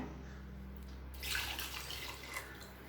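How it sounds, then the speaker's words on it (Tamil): Water splashes and pours for a couple of seconds into a pot of horse gram curry against a low background hum, fairly faint and without talk. "கூடவே 1 கப் தண்ணி சேர்த்துக்கலாங்க."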